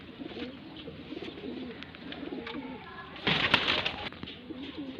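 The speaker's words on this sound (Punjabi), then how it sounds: "ਲਓ ਜੀ ਵੀਰ ਜੀ ਆ ਇੱਕ ਹੋਰ ਕਬੂਤਰ ਆਇਆ ਜੀ" Rooftop pigeons coo in repeated low, rolling phrases nearby, with a brief burst of louder rustling or flapping partway through.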